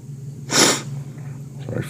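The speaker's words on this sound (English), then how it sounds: "Sorry for the sniffling here." A person gives a single short, sharp sniff through the nose, followed by a fainter breath, over a quiet steady background hum.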